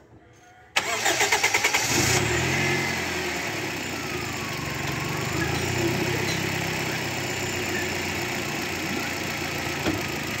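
Toyota Vios engine cranking with a quick series of rhythmic starter pulses before catching, then settling into a loud, steady idle that runs close by for the rest of the time.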